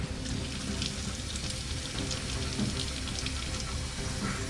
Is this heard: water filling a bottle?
yes